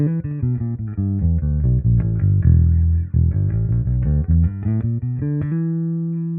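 Bass guitar played through a Darkglass AO200 or M200 amp into an EBS 212 cabinet miked with a Shure SM7B, a loud, clean, punchy riff of plucked notes ending on a sustained tone, with no talking.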